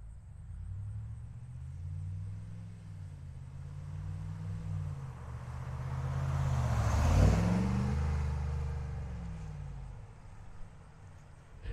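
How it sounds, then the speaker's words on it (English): A lifted 2021 Ram 1500 Sport with a Sherrod custom exhaust drives past by a river, its gentle low rumble swelling as it nears and fading away, fairly quiet with no talking. "It's the Sherrod custom exhaust system. Not super loud, not super quiet,"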